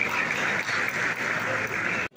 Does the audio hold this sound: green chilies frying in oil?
no